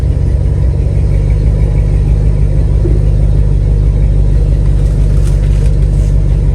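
A 1977 Mercury Cougar XR-7 with a newly installed transmission runs in drive, giving a loud, steady, close low rumble that holds evenly throughout with no one talking.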